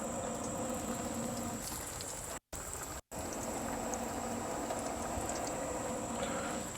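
Slices of green tomato fry in hot oil with a steady, dense sizzle and crackle that goes on throughout, close by, with two brief dropouts near the middle.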